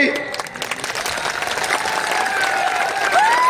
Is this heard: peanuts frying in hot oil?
no